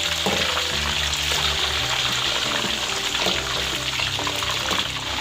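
Chicken frying in a pan for a restaurant-style steam roast, giving a steady, loud sizzle and crackle that runs unbroken throughout, with no voices.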